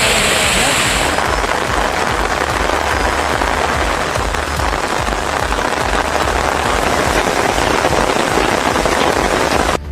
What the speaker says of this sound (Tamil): 1 மணி நேரத்திற்கு மேலாக கனமழை கொட்டியது